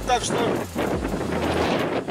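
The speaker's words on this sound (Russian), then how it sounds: "Ветер очень сильный, а камеру аж сносит" Heavy wind buffets the microphone in a ploughed field with a low, rumbling roar, and someone speaks briefly underneath it.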